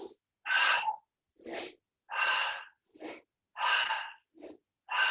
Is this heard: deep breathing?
yes